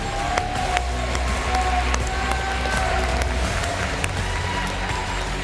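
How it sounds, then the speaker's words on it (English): Audience applause fills a game jam awards ceremony hall as a celebrity judge is welcomed onto the stage, a steady, dense wash of clapping with scattered sharper claps and a low hum beneath. "let's give a big round of applause for our first celebrity judge, Simone"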